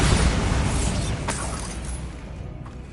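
A Bombarda spell explosion in Hogwarts Legacy: a loud, full-band blast that fades slowly, with a couple of sharp cracks of debris inside the decay.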